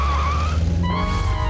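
A cartoon car roars off with a loud tyre skid, a sliding squeal over a steady engine rumble that sweeps upward partway through, continuous and close with no voices.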